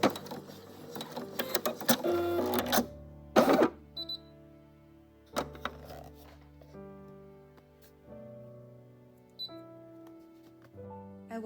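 An embroidery machine stitches designs onto fabric face masks, giving off mechanical whirs, clicks and tonal beeps in uneven bursts separated by quieter gaps, fairly close and alone.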